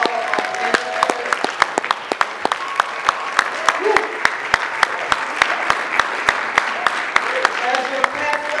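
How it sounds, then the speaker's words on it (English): A church congregation applauds its ministers with sharp, evenly spaced claps in a steady rhythm, heard over soft background sound and some talking. "If we can give a round of applause for all of our ministers."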